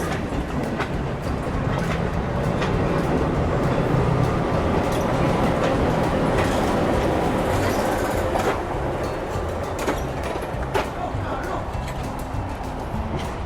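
A train in Jamaica rumbles and clatters steadily for the whole stretch, loud and close, with rhythmic clicking of wheels over the rails.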